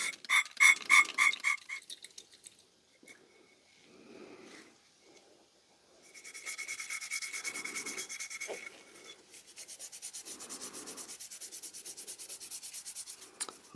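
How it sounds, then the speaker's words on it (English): Close rubbing and wiping of a small tarnished brass thumb oiler cleaned with isopropyl alcohol, in short scrubbing bursts with pauses between, then longer steady strokes, fairly faint and with no talk. "I'm just going to take some isopropyl alcohol, rubbing alcohol, and just clean it off"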